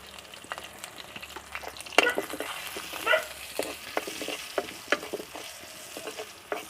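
Bhut jolokia chilies, turmeric powder and salt fry in hot oil, a steady close sizzle with stirring scrapes and a few sharp clinks of the utensil against the pan.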